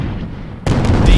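Airship artillery booms in Guns of Icarus Online, a sudden loud heavy blast after a quieter rumble, sustained roaring impacts following it.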